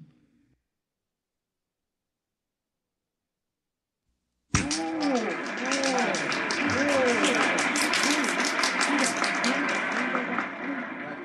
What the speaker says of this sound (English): this is a happy, laughing crowd along Fifth Avenue today